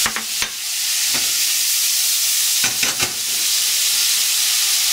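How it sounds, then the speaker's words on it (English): Onion goes into a hot pan alongside meat and sizzles steadily, with a few sharp scrapes and clatters of stirring near the start and middle. "we're going to add about half of our onion"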